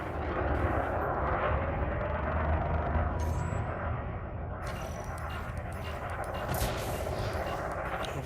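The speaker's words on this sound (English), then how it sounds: "You're literally purely wasting multi-cannon ammo on small ships" Multi-cannon fire from a spaceship in the game Elite Dangerous, aimed at small ships, rattles in continuous rapid bursts over a dense engine roar, loud and close, with no speech.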